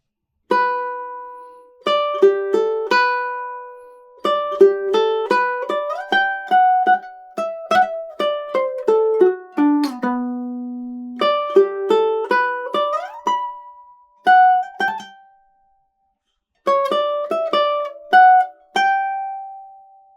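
A ukulele plays the melody of the B section of Tárrega's Adelita alone, as clear plucked single notes in a flowing phrase. A descending run is followed by a short pause before the line resumes.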